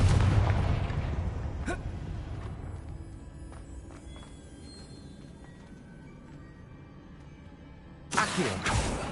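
In Hogwarts Legacy, the Confringo fire spell goes off with a heavy, booming blast that rumbles and fades over several seconds before another burst of impact noise hits.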